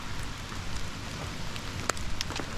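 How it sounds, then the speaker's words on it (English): Steady rain patters on a surface nearby, with a few sharper drips standing out from the soft constant hiss. "It's just like a 30-minute hike, but it's raining"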